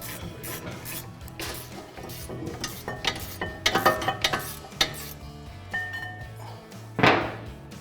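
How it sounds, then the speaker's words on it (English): Caliper bracket bolts come off the front brake of a 2011-2014 Mustang GT: close metallic rubbing and ratcheting scrapes with scattered tool clinks, and one bright metal clink near the end. "Now remove the two bolts to get the caliper bracket off the spindle"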